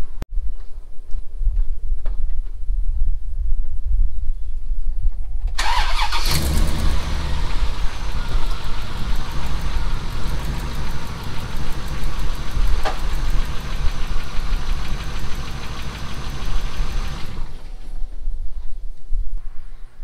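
A car engine catches with a loud burst, then runs at a steady, close idle for about eleven seconds before cutting off, with quiet surroundings before and after.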